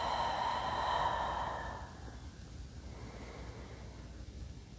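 A slow, soft exhale during a yoga shoulder stretch, lying with temple and cheek on the mat, breathy and close at first, then fading into quiet room noise.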